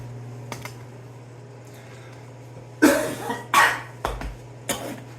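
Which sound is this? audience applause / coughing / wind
coughing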